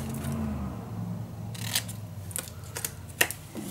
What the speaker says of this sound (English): Cut that corner away.